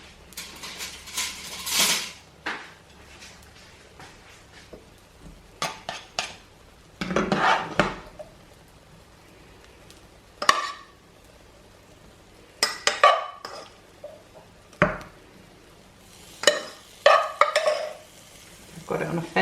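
Vegetables go into a pan for a vegan frittata and a spoon stirs them over low heat: intermittent scraping and clattering bursts of metal on the pan, separated by quieter gaps with a faint background sizzle.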